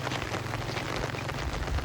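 Heavy rain pours steadily during a days-long flooding storm at a rural Thai home, a dense continuous wash with a low rumble underneath, close and unbroken, no voices.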